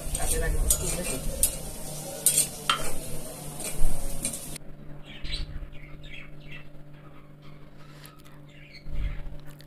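Broiler chicken frying in a wok gives a loud, dense sizzle with stirring clatter for about four and a half seconds, then drops to a quieter sizzle with faint bird chirps in the background.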